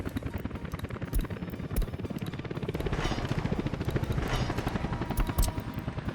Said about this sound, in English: all the materials are being brought out via helicopter really nicely